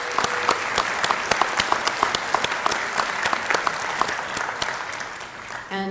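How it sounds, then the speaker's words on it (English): Audience at a Vietnam-era veterans awards ceremony in West Haven applauds for over 150 veterans, a steady wash of clapping with sharp individual claps standing out, sustained throughout and fading at the end. "Please give them a round of applause."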